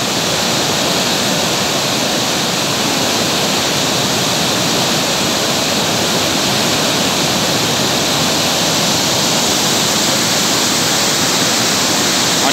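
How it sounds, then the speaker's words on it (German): Flowing water in Switzerland rushes in a loud, constant, close broadband roar that never changes, with no voices. "Ich hoffe, dieses Wasser aus der Schweiz gefällt euch."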